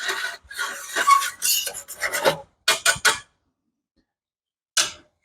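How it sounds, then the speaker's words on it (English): Metal utensil scraping browned fond off the bottom of a prime rib roasting pan, loud close rasping strokes in quick bursts, then a pause and one last scrape. "I want to scrape all this fond off the bottom of the pan."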